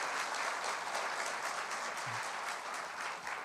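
Audience applauds whistler Chris Ullman, a dense, steady burst of clapping from a sizeable crowd, continuous throughout and moderately loud.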